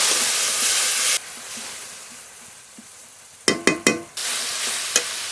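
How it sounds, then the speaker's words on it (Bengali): Ground masala of coriander, chili and turmeric powder with a splash of water sizzles and is stirred in a pan, a steady close hiss broken by a few sharp scraping strokes near the end. "এবার একটু জল দিয়ে মশলাটা ভালো করে কষিয়ে নেবো"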